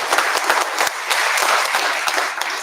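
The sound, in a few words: audience applause for dancers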